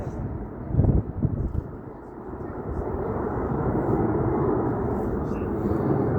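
Red Arrows jets fly a formation air display at RAF Cosford, a steady broad roar that swells and holds, with a few brief thumps early on.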